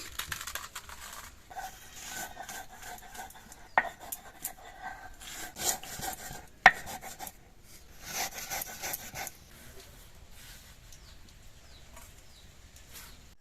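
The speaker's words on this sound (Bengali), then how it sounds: "এবার বিস্কুটগুলো গুঁড়ো করে নেব।" Biscuits are crushed into powder, heard as intermittent rough rubbing, crunching and rasping scrapes with scattered sharp cracks, close and moderately quiet with pauses between bursts.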